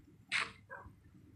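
A tamed wolf in Minecraft gives a single short bark followed by a softer yip, heard faintly against quiet background.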